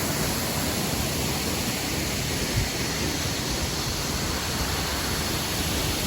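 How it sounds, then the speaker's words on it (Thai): Mok Fa Waterfall in Mae Taeng, Thailand, rushes in a loud, unbroken roar of falling water, steady throughout with no voices. "ผมอยากให้ทุกคนลองมาดูนะครับ ว่าน้ำตกหมอกฟ้าเป็นไง"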